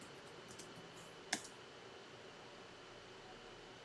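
A computer keyboard gives a few faint typing taps and one sharp, louder keystroke like the tab key, set against a quiet, steady background hiss.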